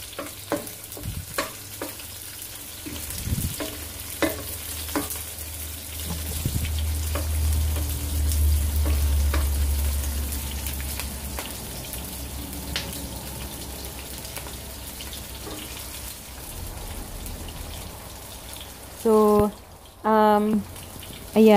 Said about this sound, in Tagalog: Antayin natin medyo maluto yung onion and garlic.